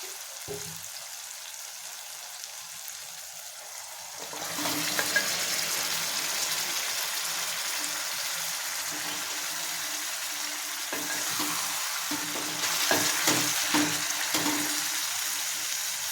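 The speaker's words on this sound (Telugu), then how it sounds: "ఇప్పుడు మనం మ్యాగ్నేట్ చేసుకున్నాం కదా మటన్, అది వేసేసుకుందాం ఇందులో" Marinated mutton drops into a pan of hot oil, the sizzle jumping louder partway through and then crackling steadily up close with stirring scrapes and a few sharp pops, no talking.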